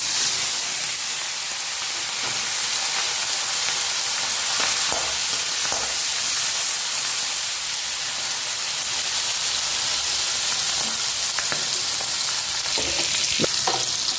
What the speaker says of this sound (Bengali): চিংড়ি মাছগুলো ভেজে নিচ্ছি